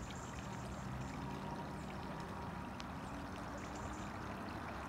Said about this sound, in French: Et puis là-bas, on a le petit bruit du ruisseau.